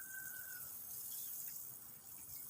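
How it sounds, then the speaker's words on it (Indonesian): Water poured from a 5-liter watering can onto soil around a newly planted grape vine moved from a small pot into the ground, a steady close splashing and trickling that continues throughout with no talking. "tinggal kita siram saja seperti ini sampai basah"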